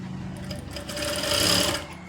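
Sewing machine stitching a blouse seam, a continuous close whirring run that swells louder toward the end before easing off.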